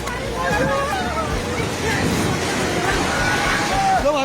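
A flooding river in Nepal rushing past, a broad steady roar of churning water close to the microphone, with wind buffeting and excited voices talking over it throughout.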